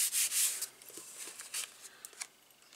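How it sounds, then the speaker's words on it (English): Quick rubbing from behind on the back of a handmade needle-and-thread card, a few soft brushing strokes of hand on paper card, close and faint, then scattered small taps and rustles. "I'm just going to give it a quick rub from behind."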